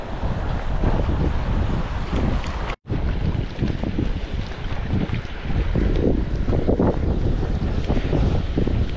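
Strong wind at sea during an evening fishing trip roars loudly and continuously across the microphone, mixed with wave wash and a brief dropout partway through.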